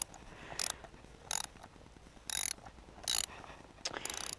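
Ratcheting clicks of a wrench loosening a stubborn bolt on a Spicer six-speed transmission, coming in short separate bursts with pauses between, close and fairly quiet.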